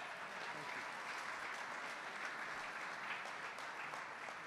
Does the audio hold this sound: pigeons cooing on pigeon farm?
no